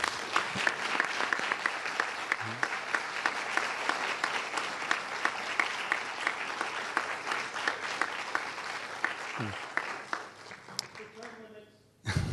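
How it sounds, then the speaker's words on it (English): An audience at a 2018 congressional debate applauds the candidates, a dense, sustained wash of clapping from a large crowd that fades out near the end. "Get a round of applause for our candidates this evening."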